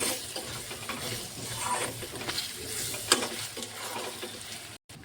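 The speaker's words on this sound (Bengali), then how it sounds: "টমেটো কুচি স্বাদ মতো লবণ এখন নড়িয়ে নিচ্ছি" Chopped tomato and salt being stirred in a pan for a taro and shrimp curry, a steady soft sizzle and frying crackle with scraping stirs and one sharp clink, fairly close.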